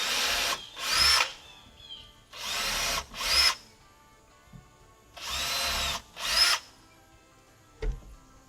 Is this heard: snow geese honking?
no